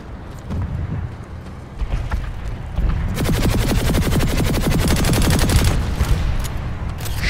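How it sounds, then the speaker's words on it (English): Rapid automatic gunfire from the video game Planetside 2 starts with scattered shots, then builds into a dense, loud, sustained burst of evenly spaced rounds. "Shooting at him with this gun"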